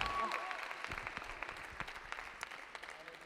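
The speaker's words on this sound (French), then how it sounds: "On peut applaudir le Seigneur pour sa vie" A Pentecost convention congregation applauds, with dense clapping filling the room and a steady crowd wash that holds throughout without thinning.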